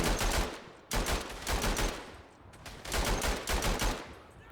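German machine guns fire in the video game Verdun, with sustained rapid bursts of loud, crackling gunfire that break off briefly and resume, interleaved with other shots.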